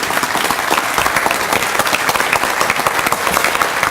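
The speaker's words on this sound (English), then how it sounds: "Give him a round of applause today" An audience applauds a special guest at a breakfast event, dense steady clapping from many hands that fills the room without a break.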